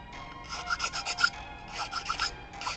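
A cured resin figure model, a 3D-printed Godfrey from Elden Ring, is handled and rubbed, making close, dry scraping and clicking sounds in two short bursts.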